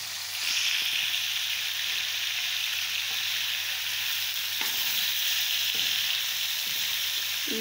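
Dried coriander, red chilli and turmeric fry with softened tomatoes in a pan, a constant bright sizzle with a few light clicks of stirring and no talking.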